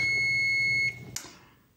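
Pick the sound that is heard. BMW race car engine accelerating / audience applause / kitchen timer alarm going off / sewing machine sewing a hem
kitchen timer alarm going off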